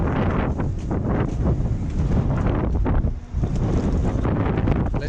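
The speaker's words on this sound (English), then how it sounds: "It's a bit windy." Strong wind blows across an open farm field where pellets are being spread, a steady, loud roar of gusts buffeting the microphone with no break.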